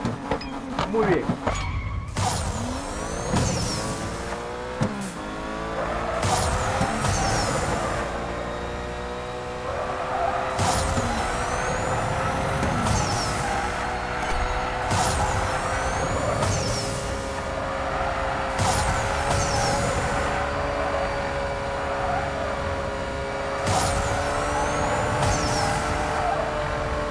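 A Jaguar XJ220 races in NFS No Limits, its engine revving up and shifting repeatedly in rising and falling cycles, with whooshes and tire noise, under someone talking throughout.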